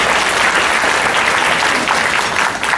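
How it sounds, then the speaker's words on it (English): A gala audience gives a dense burst of clapping that fills a large banquet hall, loud and continuous from start to finish with no voices on top. "Please give a round of applause to our community partners."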